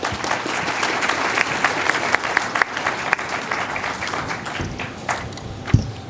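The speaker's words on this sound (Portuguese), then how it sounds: "para quem eu peço aqui uma salva de palmas" An audience applauds energy-panel panelists at a conference in Brazil, dense continuous clapping with scattered louder individual claps, ending in a thump.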